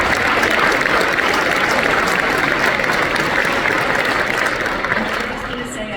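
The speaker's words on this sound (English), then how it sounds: "give them a huge round of applause." Audience applause at a military discussion event, a loud, sustained crowd clapping that holds strong and then tapers off toward the end.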